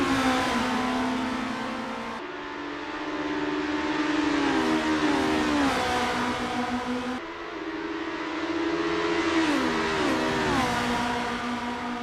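Formula race cars in the Assetto Corsa game at Mont Tremblant, engines whining through repeated rising and falling gear shifts, loud and continuous, with two cars audible together and no talk.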